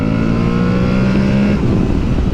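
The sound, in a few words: Aprilia Tuareg 660 motorcycle accelerating from 40 to 70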